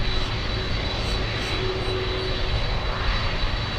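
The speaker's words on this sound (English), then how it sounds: "We have the A330 landing on runway 12." A Virgin Atlantic Airbus A330 on approach to land on runway 12 at Miami International, its engines a steady, broad roar held at an even level throughout with no talk.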